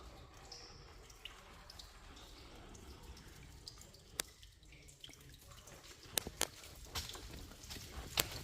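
Water dripping from the brick ceiling of a canal tunnel on the C&O towpath, with sparse sharp drips landing irregularly over a faint, hollow background hiss and no talking.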